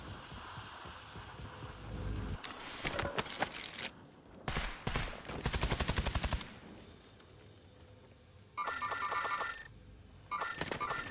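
Bursts of automatic gunfire in Call of Duty: Warzone, several sharp rapid volleys separated by short pauses, close and fairly loud, with no talking.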